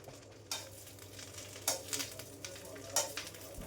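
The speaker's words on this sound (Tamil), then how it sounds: "போட்டிங்கனாவே அதில் வந்து டப்ப டப்பன் சவுண்டு கேட்கும்" Faint background hiss punctuated by several sharp crackling pops and sizzling bursts of curry leaves spattering in hot oil.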